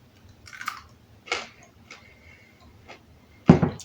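Close, crisp crunching bites and chewing of homemade fermented dill and garlic pickles come in irregular bursts, ending with one loud crunch.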